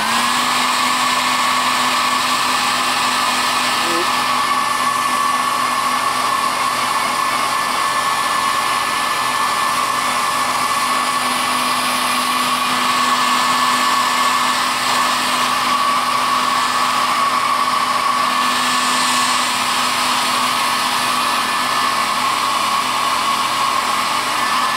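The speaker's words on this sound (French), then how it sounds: "je vais le souffler un peu au sèche-cheveux" A hair dryer blows steadily and loudly on an Ecto-1 model kit, a continuous whirring roar with a fixed tone that holds unbroken from start to finish with no voices.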